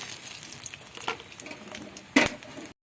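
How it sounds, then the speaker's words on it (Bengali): Cumin seeds, bay leaves, cinnamon, cloves and cardamom hit hot mustard oil in a wok-style pan, making a bright crackling sizzle that fades, then a sharp burst of spattering near the end before it cuts off. "কড়াইতে আমি সর্ষের তেল দিয়েছি তেলটা গরম হয়ে গেছে দিয়ে দেবো দুটো জিরে তেজপাতা দিয়ে দেবো দারচিনি লবঙ্গ এলাচ"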